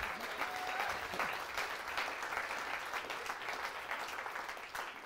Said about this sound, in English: So please give a round of applause to all of our sponsors.